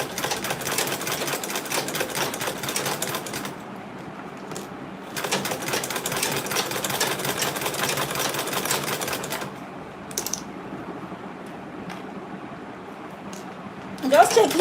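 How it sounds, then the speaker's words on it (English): Sewing machine stitching the lining of a fabric tote bag, a steady rapid mechanical chatter in two long runs separated by a pause, with a few short stitch bursts afterwards. "It doesn't sew on this part when sewing this,"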